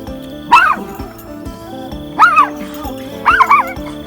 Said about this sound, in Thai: กวนเห่าแพะอะไรเนี่ย